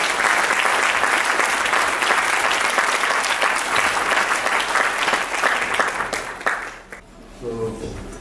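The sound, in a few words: applause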